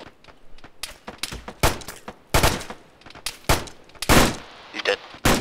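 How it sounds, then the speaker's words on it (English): Gunfire in the Arma video game during a coastal bunker defense, rapid bursts and single shots at varying distances, loud, irregular volleys with brief pauses between. "Keep shooting him."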